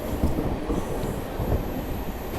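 A MEMU electric commuter train runs on the Santragachi to Jhargram line, a steady rumbling roll of wheels and carriage noise continuing without break, close and fairly loud.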